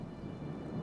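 Steady rain hiss with a low thunder rumble in a video game, a brief soft wash of weather sound with no one talking.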